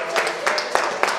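A church congregation claps together in steady rhythmic bursts, roughly three claps a second, with a busy, reverberant crowd noise between them.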